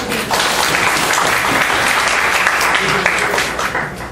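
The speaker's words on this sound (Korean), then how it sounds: "수고해주신 장소수 K님께 큰 박수 부탁드립니다" A room of attendees applauds a presenter at the end of a technical talk session. The clapping is full and sustained for about four seconds at an even, loud level, with no voices on top.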